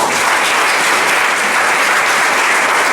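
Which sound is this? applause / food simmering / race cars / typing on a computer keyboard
applause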